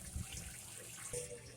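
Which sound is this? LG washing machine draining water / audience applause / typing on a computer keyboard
LG washing machine draining water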